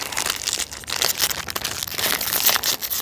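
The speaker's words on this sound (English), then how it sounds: "Sorry for all the crinkling." Plastic Bomb Pop popsicle wrapper crinkling and crackling continuously up close, a dense, busy rustle with sharp crackles throughout and no talking.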